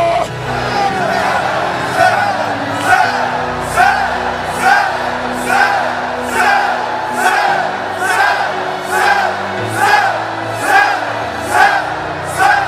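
A large crowd in a church gymnasium shouts "santo" together again and again, each loud chant coming about once a second over a steady sustained music background.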